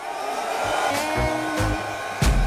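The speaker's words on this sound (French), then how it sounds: "est-ce que je peux utiliser ce sèche-cheveux avec la batterie" A hair dryer powered by a portable 2000W battery station in a van runs with a steady close whirring airflow, broken by a few soft thumps and a louder knock near the end.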